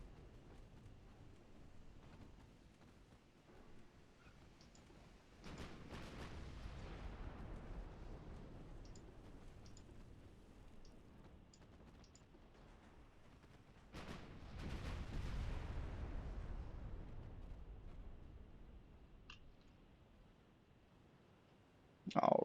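Warship guns fire in the naval battle game Ultimate Admiral Dreadnoughts, two booming rumbling salvos that swell and slowly fade, with faint clicks between and a sharp burst at the end.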